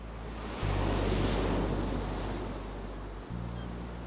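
Sea waves washing onto a shore, a broad rushing swell that rises sharply, fades slowly and then surges again, with low wind rumble underneath and no voices.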